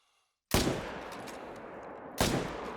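Two loud, sharp rifle gunshots from the hunting video game The Hunter: Call of the Wild, each followed by a long echoing tail, the second about two seconds after the first.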